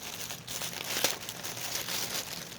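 Plastic bag holding a cross stitch and embroidery kit crinkled and rustled while being opened, close and steady with one sharper crackle partway through, no talking.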